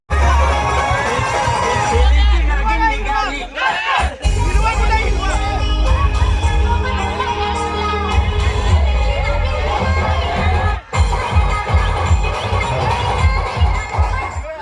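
A large crowd roars and cheers at the Kalambusare Premier League cricket tournament, a loud, continuous wall of shouting and babble that includes children's voices and does not let up.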